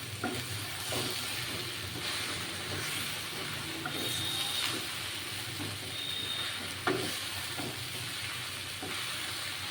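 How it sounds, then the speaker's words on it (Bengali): Chopped onion sizzles steadily in a hot pan while making egg pasta, a continuous close frying hiss broken by occasional clicks and scrapes of stirring. "এবার আমি এই পেঁয়াজটা দিয়ে দিলাম হ্যাঁ এবার ভাজা হবে"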